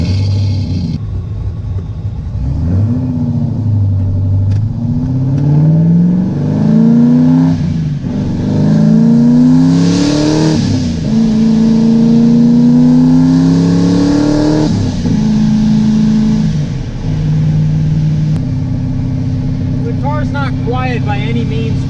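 A Corvette making about 1000 horsepower revs hard with the exhaust open, a loud, close engine climbing and falling through repeated throttle blips before settling back to a rough idle.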